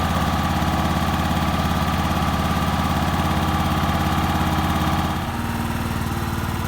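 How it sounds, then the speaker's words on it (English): A portable generator with a dead battery, pull-started and now running: a steady, loud, close engine drone with a rapid even rhythm, shifting slightly lower and rougher near the end, no speech. "So even though the battery's dead, you can still cold start it and still produce power."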